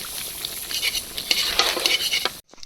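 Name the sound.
chicken being stirred and sautéed in a pot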